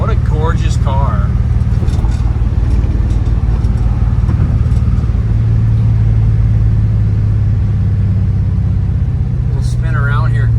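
A 1961 Chevrolet Biscayne restomod with an LS1 V8 and six-speed driving, a loud steady low engine rumble heard from inside the car throughout, with someone talking over it.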